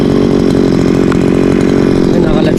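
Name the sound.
grass cutter running in rice field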